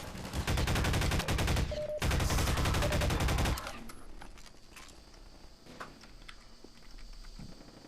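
Rapid bursts of gunfire from a Counter-Strike: Source sci-fi mod, loud and dense for about three and a half seconds with a brief break, then scattered fainter shots and clatter.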